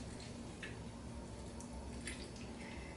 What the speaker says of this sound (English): I'm going to squeeze the tomatoes